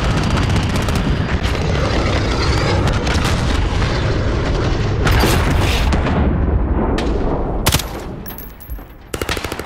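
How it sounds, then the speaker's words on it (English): Cruise missile strike in Call of Duty Modern Warfare on a hardcore Demolition match in Piccadilly, a loud sustained roaring blast amid dense gunfire and battle noise, ending in a few sharp cracks as things settle. "Allied cruise missile away."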